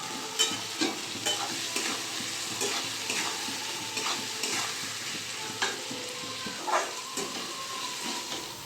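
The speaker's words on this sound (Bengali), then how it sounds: "পেঁয়াজটা আমি ভালো করে ভেজে নেব" Chopped onions with a little salt fry in a pan for Bengali mutton kosha, giving a steady, close sizzle broken by repeated scraping stir strokes, with no talking.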